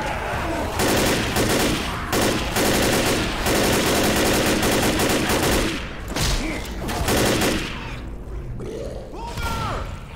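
Rapid automatic gunfire aimed at the Tank in Left 4 Dead, dense loud bursts of shots nearly continuous for several seconds, then thinning into scattered shots and game clatter, with brief speech mixed in.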